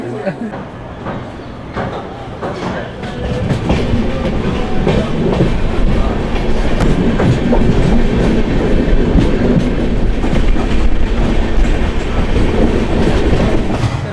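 The Avantika Express passenger train from Mumbai to Ujjain rumbles steadily along with rhythmic clattering wheels, loud and continuous, growing slightly louder after the first few seconds.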